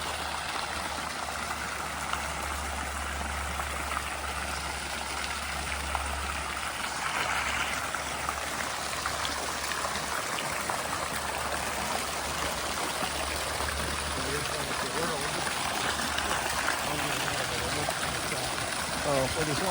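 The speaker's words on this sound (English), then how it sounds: "I want to get close to the fountain now." Steady rushing splash of a garden fountain in the Netherlands, a continuous broad wash of falling water heard outdoors from nearby, with occasional low wind rumble and no clear talk.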